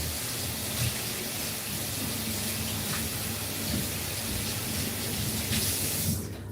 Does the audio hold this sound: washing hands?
yes